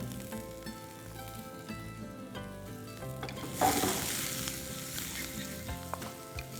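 Cumin seeds, crushed coriander seeds, ginger and green chillies sizzle in hot oil, a steady crackling fry that surges loudly midway as more goes into the pan, with light clinks of stirring and no talk.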